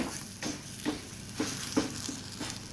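Malwi flatbread sizzling in a pan, a steady close frying hiss with faint periodic soft pops and shifts as it cooks, no voices.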